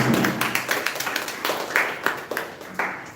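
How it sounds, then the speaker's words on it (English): At a Toastmasters club meeting, a small group claps for the table topics master. The claps are scattered and fairly close, rising in irregular bursts with a faint murmur of voices behind them. "Can we have a good round of applause for the tabletop master?"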